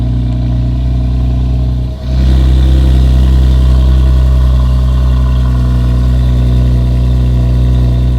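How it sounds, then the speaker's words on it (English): A BMW M2 Competition with a modified exhaust turns over and catches, then settles into a loud, deep, steady exhaust rumble that continues close by without talking. "I can already hear the different tone in this exhaust just from the startup."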